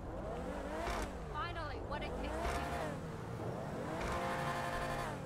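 A Range Rover engine revs repeatedly in GTA 5, pitch sweeping up and down in several loud, close bursts, with a game-like quality.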